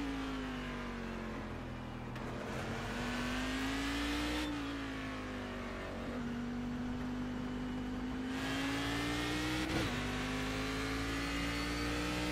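Cadillac CTS-VR engine in iRacing at Okayama, a loud, steady race-car drone that rises and falls in pitch through several shifts and throttle lifts, with no talk over it.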